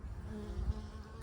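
Bees buzz at a Warre hive during a winter check, a low continuous hum that is faint and close with no voices.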